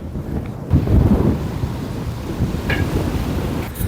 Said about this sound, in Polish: Strasznie wieje, kurde, i taki gorący wiatr.